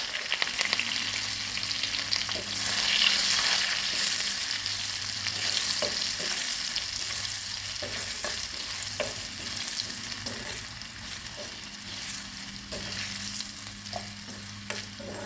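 Dried chillies, asafoetida and curry leaves sputtering in hot oil as a tempering for Coimbatore kosumalli, a steady nearby crackle and sizzle with occasional stirring knocks, no talk.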